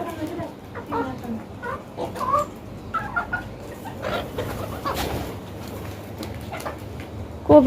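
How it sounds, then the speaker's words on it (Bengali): Backyard chickens cluck and murmur close by while being fed, scattered calls continuing over a low background hum, with a sudden loud burst right at the end. "আজকে একটু মুরগিগুলোকে খেতে দেয়"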